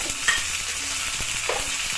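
Curry leaves and green chillies crackle and sizzle in hot coconut oil with popping mustard seeds, a steady close frying hiss broken by a few sharp spits and a brief stir of the pan.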